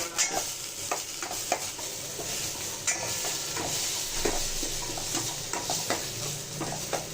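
Onion, brinjal and tomato sautéing in a pan, a steady sizzle broken by frequent spoon scrapes and taps that keep an uneven rhythm, no voices.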